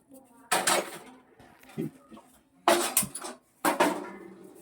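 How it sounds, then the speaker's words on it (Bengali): A metal kadai set down on a home kitchen stove for cooking egg curry gives several loud clanking, rattling bursts separated by short pauses, close up, with no speech. "এবার কড়াটা বসিয়ে দেবো।"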